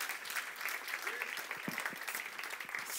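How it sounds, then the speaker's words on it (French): A church congregation applauding and cheering during a service, a continuous wash of clapping and crowd noise heard at a moderate distance, with voices mixed in. "Vous pouvez acclamer."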